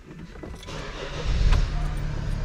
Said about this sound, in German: nach dem Dieselfilter starten wir das Auto